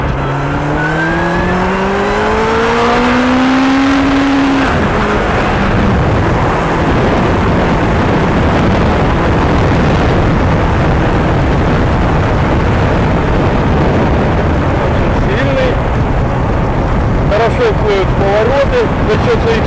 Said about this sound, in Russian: Посмотрим, как лошадиные силы будут вытягивать сейчас этот мотоцикл.